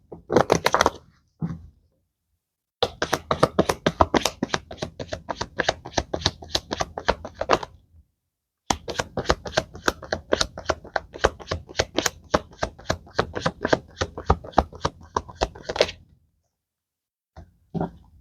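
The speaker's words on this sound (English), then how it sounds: "One more shuffle." Playing cards are shuffled in rapid, fluttering bursts: a short riffle, then two long runs of quick clicking separated by a brief pause, up close.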